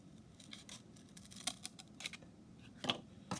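Scissors cut through cardboard in quiet, close snips and crunches, spaced unevenly with a few sharper cuts.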